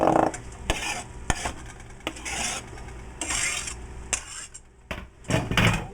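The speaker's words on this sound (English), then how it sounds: "I'm going to put the green onion in" Green onion sizzles in melted butter in a pan, with a steady frying hiss broken by repeated scraping stirs and clatter against the pan, close and fairly loud throughout.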